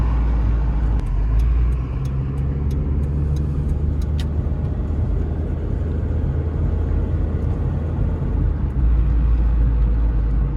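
Steady interior rumble of a cheap auction car driving along a road, engine and tire noise constant and close, with a few faint ticking sounds and no talking.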